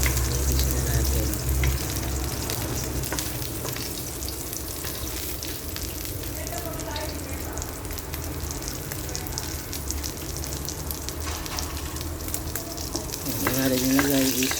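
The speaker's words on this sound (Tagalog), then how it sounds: "igigisa na natin yung mga sanghap" Garlic, onion and ginger sautéing in a pan beside pork for a kangkong dish, a loud, steady close sizzle with scattered stirring clatter and a brief spoken voice near the end.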